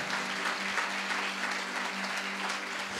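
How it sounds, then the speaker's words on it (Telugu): A crowd at a Christmas sermon claps loudly and continuously, dense steady applause filling the whole stretch without pause. "గట్టిగా చప్పట్లు కొట్టాలి, గట్టిగా గట్టిగా చప్పట్లు కొట్టాలి"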